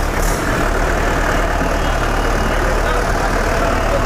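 Mahindra 575 DI tractor diesel engine running after start-up during a factory test at the Zaheerabad plant, a loud, steady low rumbling idle with no break for the full stretch.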